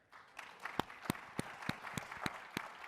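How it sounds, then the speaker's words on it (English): Applause from a conference audience, a dense wash of many hands clapping with a few louder, sharper claps standing out near the microphone, moderately quiet and steady throughout. "Let's start off with a round of applause for the SaaStr team here."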